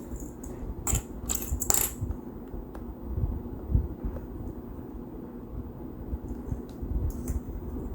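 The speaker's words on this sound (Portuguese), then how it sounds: "Vou botar uns cliques." Plastic sewing clips snap onto fabric bias binding while a pouch-style thread holder is being sewn: a quick cluster of sharp, close clicks early on, then quieter handling and rustling.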